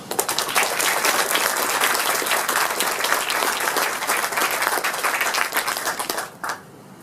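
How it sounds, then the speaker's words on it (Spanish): Sustained applause from an audience at a book presentation, dense and loud clapping throughout that tapers off near the end. "un aplauso de todos nosotros para vos"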